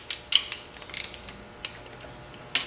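Ratchet torquing cylinder head bolts on a 5.7 HEMI engine during a rebuild, a few sharp, close clicking bursts spaced apart with quiet gaps between.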